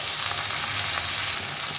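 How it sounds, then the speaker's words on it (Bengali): Fish frying in oil in a pan, a dense, even hiss of sizzling oil, close and loud, unbroken for the whole short stretch. "মাছটা ভাজা হোক"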